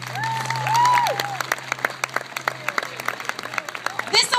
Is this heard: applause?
yes